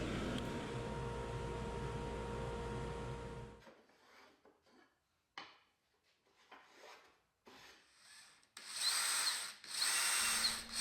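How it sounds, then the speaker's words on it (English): A drill press whirs steadily for several seconds, then stops; intermittent rubbing and scraping bursts follow as 4/0 steel wool polishes wood, ending with a higher-pitched spinning tool sound. "4/0 steel wool to polish on the drill press"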